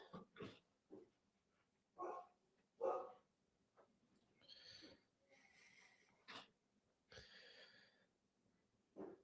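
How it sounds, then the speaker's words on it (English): Dogs indoors react to someone at the door with scattered, intermittent barks, snorts and huffing breaths, some sharp and close, others muffled, separated by quiet gaps. "She barked, and he hears her bark, and he's like, I got to get in on this action"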